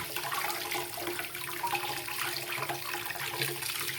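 Steady rushing of bath water pouring from a tap over a bubble bar, continuous and fairly close, with no voices.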